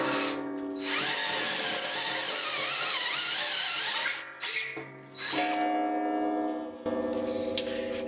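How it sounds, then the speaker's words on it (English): A power drill set to its lowest speed and highest torque bores under heavy downward pressure. It gives a loud, sustained grinding whine with brief stops and restarts, and no voices are heard. "I'm putting all of my weight down on this drill, and I've got the drill on its lowest speed and its highest torque setting."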